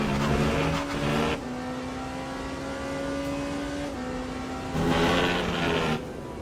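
A race car engine drones at high revs in the Le Mans Ultimate sim racing game, pitch climbing steadily and dropping at shifts, with louder rough bursts near the start and end, heard alone and close.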